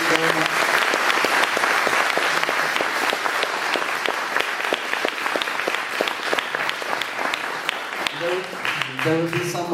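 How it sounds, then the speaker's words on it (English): Hall audience applauds the panel at the end of a discussion event, a full, sustained clapping that goes on for several seconds with individual sharp claps standing out, and voices and a brief murmur rise near the end. "Please, a big applause for the panel."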